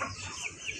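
Chickens clucking in a household yard, a short faint burst of a couple of soft clucks close by.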